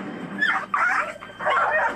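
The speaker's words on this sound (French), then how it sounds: "un chien agité qui s'attaque à des chiens plus gros que lui" An agitated small dog barks and yips in quick, close bursts, with whimpering edges between the louder yelps, alone without talk.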